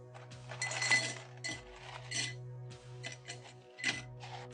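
Ice cubes clink into a glass for a stirred rum cocktail, a series of bright, close clinks and rattles in several bursts over a low steady hum.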